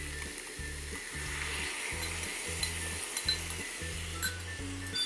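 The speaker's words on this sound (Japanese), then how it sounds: "しっかりと混ぜながらたけのこに味を染みさせていく" Water-boiled bamboo shoots stir-frying in oil in a pan for a menma-style simmered dish give a steady close sizzle with occasional clinks of utensils against the pan throughout.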